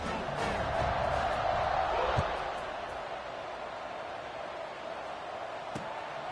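Broad crowd buzz fills a college football stadium in an NCAA game against Arkansas State, a steady, distant roar that swells early and then settles into a lower hum with no talk over it.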